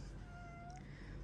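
A house cat meows a few times nearby, one drawn-out call over a steady low background hum, with no talking in between.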